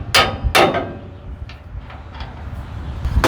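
Several sharp metallic hammer strikes from a shop hammer and chisel during a torque arm replacement on a flatbed trailer, two close together at the start and another near the end, with softer taps and clinks between.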